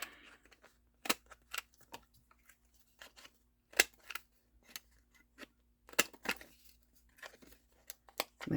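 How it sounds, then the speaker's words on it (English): A We Are Memory Keepers corner chopper punch trims the corners of paper for collaged journal cards, giving a series of sharp, crisp clicks and snips at irregular intervals, close and fairly loud, with quiet pauses between. "I'm using the little corner chomper because that's the same as what it was, and it just pretty much takes off the excess paper"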